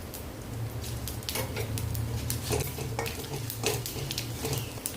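Panch phoron spices, added with dry red chilli and bay leaf, sizzle in hot oil in a pan, a continuous close fry broken by frequent clinks and scrapes of a spoon stirring.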